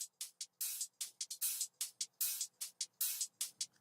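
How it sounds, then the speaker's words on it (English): Dubstep hi-hat top loop of short, crisp closed hats in a quick, repeating pattern, with longer open hats hissing on the offbeats, clean and close with nothing else underneath. "It's just an assortment of little closed hi-hats and then an open hat on the offbeat."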